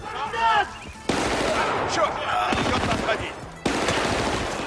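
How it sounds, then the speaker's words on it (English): Gunfire rattles through a session of the video game Battlefield: Bad Company, with dense bursts of automatic fire and explosions from destructible buildings, loud and continuous across the short stretch. "you can just blow a hole in the side of the building, expose them, and then gun them all down"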